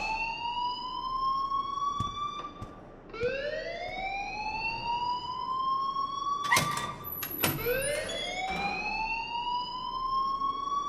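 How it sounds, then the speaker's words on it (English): A school alarm in the video game Life Is Strange wails in rising, repeating sweeps. The tone is loud and continuous, and sharp clicks and knocks break in partway through. "please turn off that alarm since that's your job"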